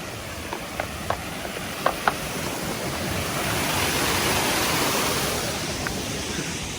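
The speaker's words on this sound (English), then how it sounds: "we go past these beautiful waterfalls" Steady broadband rush of a waterfall at a Bahamas resort, falling water fairly close and continuous, swelling slightly midway, with a few faint clicks near the start.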